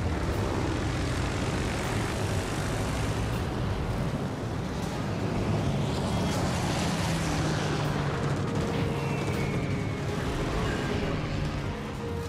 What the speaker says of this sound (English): Waiting for planes to come back.